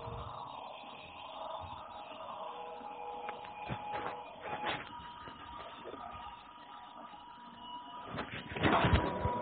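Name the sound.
beating sponge cake batter with sugar using a beater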